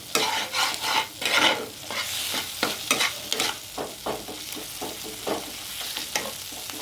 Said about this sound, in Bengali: নুনটাকেও আমি ভালো করে একটু কষিয়ে নেব।